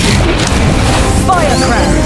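Incendio fire spell blasting in the video game Harry Potter: Magic Awaken, a loud, dense burst of booming roar under game voices, with brief whooshing sweeps partway through.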